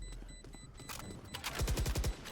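Gunfire from the shooter video game Valorant comes as a rapid burst of about six punchy shots near the end, preceded by softer game sounds and faint beeps.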